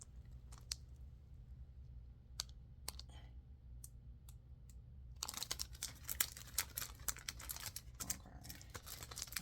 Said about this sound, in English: So I'm gonna put the stickers on here.